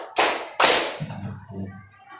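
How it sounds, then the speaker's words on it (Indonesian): A class claps in a counted pattern during a school lesson: two loud, sharp single claps roughly half a second apart, followed by softer low murmuring voices. "Coba tepuk 1, tepuk 2,"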